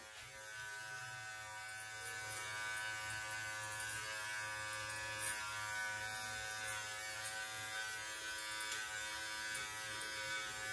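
Electric hair clippers buzz steadily and close up for several seconds while cutting hair at the nape, a constant high whine with slight changes as they cut, no talking.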